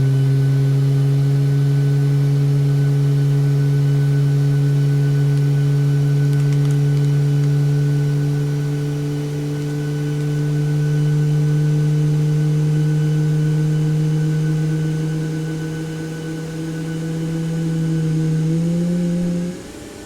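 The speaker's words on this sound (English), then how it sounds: "It's crazy how realistic the engine sound is." Emirates Airbus A380 engines in the iFly flight simulator game, a loud steady tonal hum with stacked harmonics, rising slightly in pitch near the end before dropping off, with no voices.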